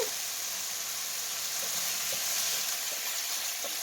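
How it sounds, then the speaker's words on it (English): Chicken fried rice is stirred in a hot pan, a steady, dense frying sizzle throughout with faint scrapes of the utensil beneath it. "Give it another stir."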